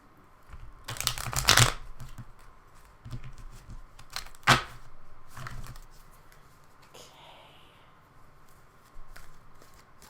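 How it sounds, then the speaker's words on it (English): Bursts of tarot card shuffling, a longer riffle near the start and a sharp one midway, with softer handling and quiet rustles between. "Let's get a little more shuffle on these cards."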